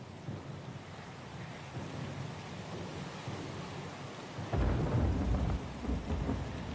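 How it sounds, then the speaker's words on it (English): Heavy storm rain pours steadily in Pillars of Eternity 2: Deadfire, with a deep rumble of thunder swelling louder about two-thirds of the way through and continuing under the downpour; no voices. "Lost and alone in the storm?"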